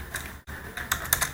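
Fingers tap out a short burst of keystrokes on a computer keyboard, with a handful of quick, light clicks close to the microphone over roughly a second and a half.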